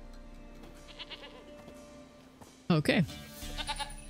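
A goat bleats in The Witcher 3, a short, wavering cry that rises out of a quiet ambient bed of low hum and soft clicks, followed by faint rustling, with a voice briefly speaking.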